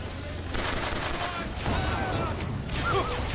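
Gunfire from a gunship battle in Bioshock Infinite, a dense, steady barrage of shots and booms lasting several seconds with mechanical clatter underneath, moderately loud and continuous without a break.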